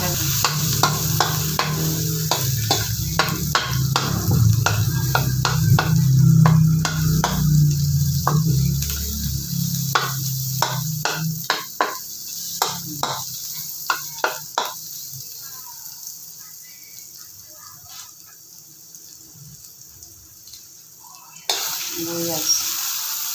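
Garlic and onion frying in oil for adobong sitaw, sizzling loudly with repeated spoon stirs and scrapes against the pan, then settling to a quieter sizzle with occasional clinks.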